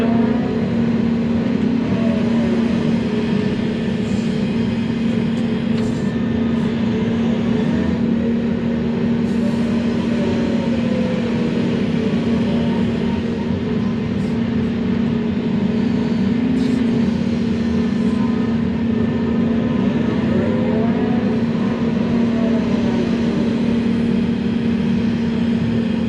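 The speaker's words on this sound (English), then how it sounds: "we'll just throw it in the truck, haul it over there to that corner, dump it out" A truck hauls a load of dirt while a pond is dug to size. A heavy engine holds a steady, loud, unbroken drone throughout, with a low hum running underneath.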